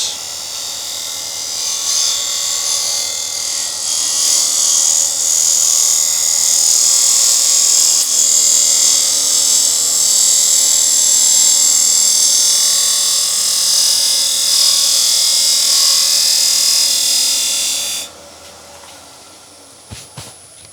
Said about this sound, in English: So I'll just do a couple of more cuts just to get rid of that crack